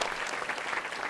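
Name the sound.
audience applause for sponsors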